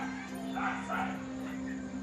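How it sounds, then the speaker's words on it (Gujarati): Dogs on a road at night bark, yip and whimper from a distance. The calls come in short, faint bursts over a steady electrical hum. "બહુ કૂતરા બોલે છે ભાઈ છે રોડ ઉપર"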